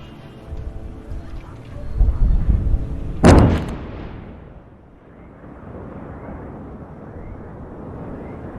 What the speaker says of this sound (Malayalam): ബെയ്റൂത്തിലെ സ്ഫോടനത്തിന്റെ ദൃശ്യമാണ് ഇപ്പോൾ പ്രേക്ഷകർ കാണുന്നത്